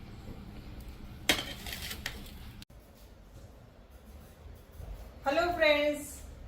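A spatula scraping dried lemon and sugar off a metal vessel, a scratchy rasping burst early and another longer gritty scrape near the end, with someone talking throughout.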